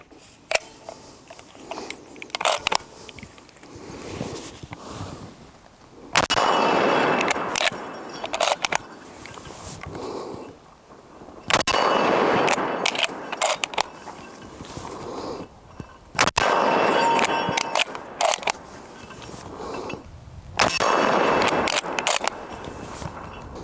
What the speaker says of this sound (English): It's in a way assisted opening, and we'll shoot a few more times.